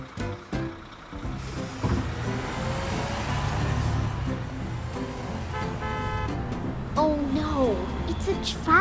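A toy red car and road-traffic noises play over lively, overlapping voices, ending with short horn-like toots near the end.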